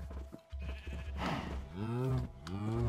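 Sheep bleating in the Minecraft video game, two wavering bleats near the end, faint under someone talking.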